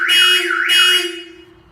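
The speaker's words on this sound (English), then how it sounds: "That was pretty loud in the garage. So that's that. The Viper 5706." Viper 5706 car alarm arming in a garage on a 2010-2014 Kia Soul, two loud warbling electronic chirps in quick succession, close and echoing, then fading out.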